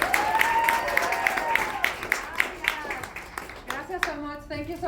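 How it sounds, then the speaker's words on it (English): A crowd claps steadily for a few seconds, loud and close, the applause thinning out toward the end as it fades. "So everybody give me a round of applause for Claudia Romo Edelman."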